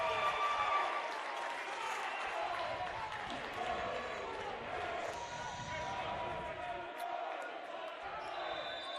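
A section of fans cheers down front at a men's volleyball tournament match, Benedictine versus Aurora, a steady crowd roar with scattered shouts and claps filling the gym under an announcer's voice.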